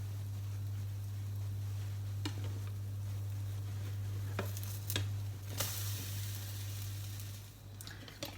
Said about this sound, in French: Donc maintenant on va retourner le pancake.